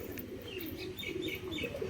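Soft, low pigeon coos roll continuously through a busy background, faint and close, with light chirps mixed in and no talking.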